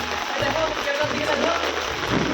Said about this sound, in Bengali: দেখতে পাচ্ছ এখন বৃষ্টি পড়ছে